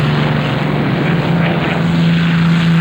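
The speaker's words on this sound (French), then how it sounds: "Les chasseurs anglais décollent avant chaque attaque ennemie." British propeller fighter planes drone overhead in a loud, sustained engine roar with a steady low hum and rising tone, no voices.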